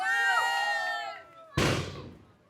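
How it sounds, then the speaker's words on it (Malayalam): A single sharp firecracker bang bursts at a film song launch event, following a whining tonal sweep, then decays quickly into a fading rumble. "കറക്റ്റ് സമയത്ത് നമുക്ക് പടക്കം പൊട്ടി"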